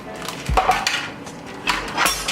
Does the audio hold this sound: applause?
no